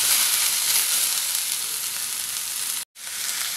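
Pumpkin pieces cook in a pan with a steady, close hiss of frying, with no voices, broken once by a brief cut to near silence before the sizzle returns.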